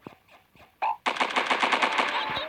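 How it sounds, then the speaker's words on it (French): Rapid automatic gunfire in a first-person shooter game, a close, loud burst of fast repeated shots after a few quieter clicks and a single shot, with brief speech-like sounds at the start. "je lui ai mis au moins 5 ou 10 balles"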